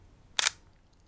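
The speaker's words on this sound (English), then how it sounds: "I'll demonstrate the shutter sound to you actually." A single soft, short click comes from a Sony A6000 camera shutter with electronic first curtain on, crisp and close in an otherwise quiet room.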